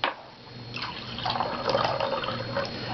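Water poured through the air from one container into another, a steady splashing, trickling stream running close and fairly loud for the length of the clip, building slightly toward the end with no voices.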